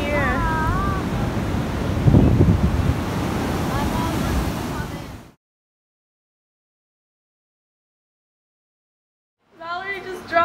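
Ocean waves crashing on the shore, a loud roaring surf wash with heavy wind buffeting on the microphone, cut off by silence before resuming briefly, while children and adults talk over it.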